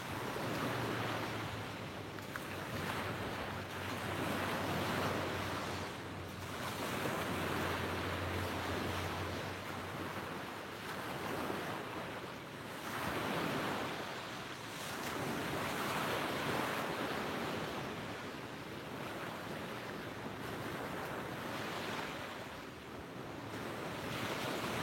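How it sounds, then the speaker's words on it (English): Ocean waves break on a shore at sunrise, a broad continuous roar that swells and recedes in slow surges, with some wind rumbling across the microphone. "soak in the colors and the sounds of the waves"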